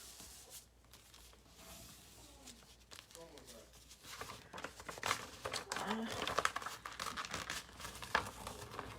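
Paper being folded into an origami crane gives soft crinkling and creasing rustles, growing busier and louder toward the end, under a person's talking.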